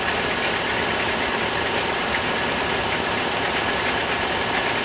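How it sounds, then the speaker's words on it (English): A Dodge 3.3 V6 car engine with nearly 200,000 miles idles steadily and loudly, with a fast, even ticking from the valve lifters running through the drone. "It's running good. I can hear the lifters a little bit."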